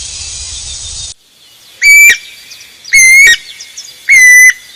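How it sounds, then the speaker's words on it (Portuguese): Songbirds in the Brazilian sertão give three loud, clear whistled phrases, each about half a second long and spaced roughly a second apart, following a brief burst of hissing noise at the start. "Isso aqui, é os passarinhos cantando."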